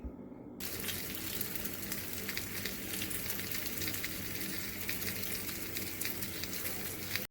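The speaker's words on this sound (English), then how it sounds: "I'm going to go ahead and let these sit in the pan and sear for 10 minutes" Bell peppers searing in a hot pan, a steady close hiss and sizzle that holds evenly throughout, starting abruptly after a brief quiet moment, with no voices.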